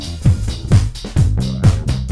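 Saturated bass tone run through the Righteous plugin, playing a repeating pattern of thick, gritty low notes with rhythmic attacks, loud and alone.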